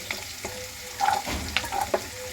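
Semolina upma ingredients frying in a pan, giving a short burst of crackling sizzle with sharp scrapes and clinks of a spoon stirring against the metal, close and fairly loud, with no speech.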